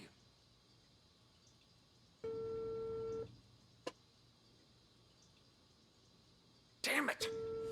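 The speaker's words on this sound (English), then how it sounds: "Pick up your damn phone already!" An unanswered phone call rings out as two separate electronic ring tones, each about a second long, in an otherwise quiet room with a faint click between them and a louder burst at the end.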